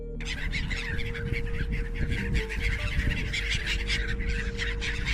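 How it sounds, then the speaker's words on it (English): Seagulls call over each other in a dense, continuous stretch of harsh, honking cries, loud and close like a busy flock. "Next is seagull."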